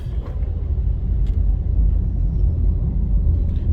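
Steady low engine and road rumble from inside a car driving along Molynes Road in the city, continuous and fairly loud, with no talking.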